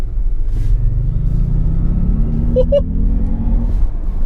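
A Jaguar I-PACE electric SUV accelerates with a rising high-pitched electric whine over a low rumbling layer, close and steady.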